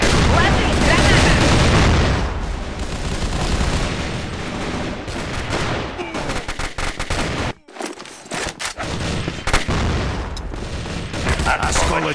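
Grenade blasts and rattling automatic gunfire fill a video game firefight, with dense, loud bursts, a brief dropout mid-way, then renewed shooting and booms, all close and continuous.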